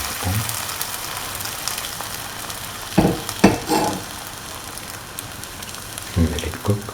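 Egg-dipped carrot French toast sandwich sizzles in a frying pan, a steady soft crackle broken by a few clattering bumps and scrapes of handling close by.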